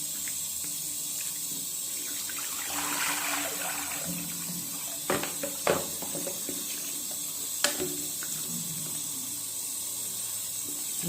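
Water runs and splashes steadily into a bowl while a beauty blender sponge is cleaned, with a few sharper sloshes and clinks as it is poured and swirled.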